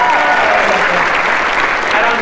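Audience applause at a stand-up comedy show at the Mystere Theatre in Las Vegas, Nevada: a steady, dense wash of clapping fills the whole stretch, loud and close, with no pause.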